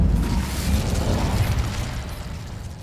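An Incendio fire spell bursts in Hogwarts Legacy, a deep whooshing blast of flame with rumbling low-end boom that swells early and slowly fades, heard alone without voices.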